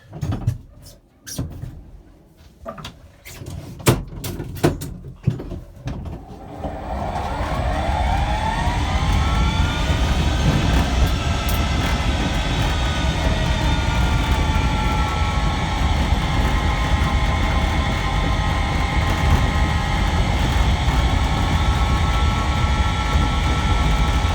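A GEM electric car, a 35 mph model, pulling away in gear: after a few scattered clunks, a steady loud whine from the transmission rises gradually in pitch and holds over a broad mechanical hum.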